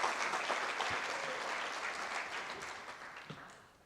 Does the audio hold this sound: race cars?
no